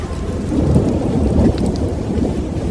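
Heavy thunderstorm with steady pouring rain and a deep continuous rumble of thunder, loud and close, with no voices.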